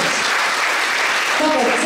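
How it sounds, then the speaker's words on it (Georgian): A concert audience at a Georgian folk song performance gives loud, continuous applause, and a voice begins to emerge over the clapping near the end. "კიდე ერთხელ ესეთი მხურვალე აპლოდისმენტები ბატონ გოჩას"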